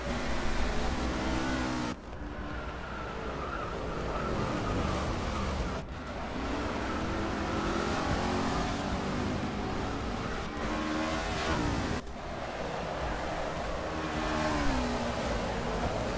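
NASCAR race cars from a Forza Motorsport 6 replay roar continuously with revving engines and gear-shift dips, several abrupt camera cuts changing the engine note, loud and close throughout with no talking.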